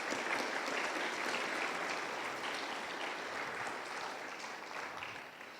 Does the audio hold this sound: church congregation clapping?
yes